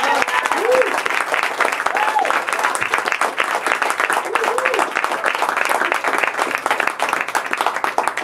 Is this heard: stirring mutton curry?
no